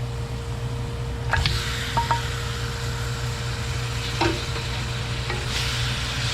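Oxtail for kare-kare fries and is stirred in a pot, a steady close sizzle broken by a few clinking scrapes of the utensil against the pot, with no talking.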